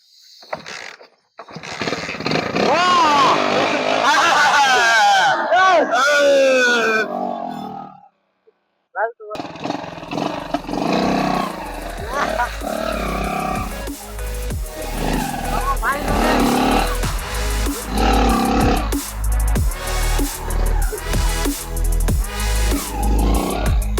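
A motorcycle engine started with the help of gas: after a short gap a rough, revving engine catches and runs loudly with rhythmic pulsing, following a stretch of talking at the start.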